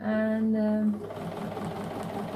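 Sewing machine quilting a fabric cover: a steady, close mechanical hum for about a second with a brief word spoken over it, then the machine stops and a quieter rustling background follows.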